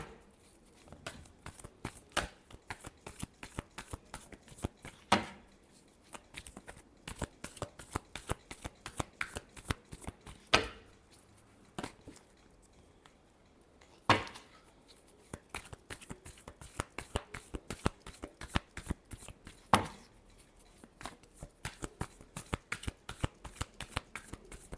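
Tarot cards being shuffled over and over in a rapid riffling, crisp clicking flurry that runs the whole time with only brief pauses, close and fairly quiet, no talking.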